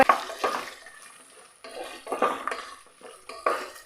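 Chopped potatoes are stirred in a pan, a utensil scraping and clinking against the metal in irregular bursts with a faint sizzle underneath, close and fairly loud.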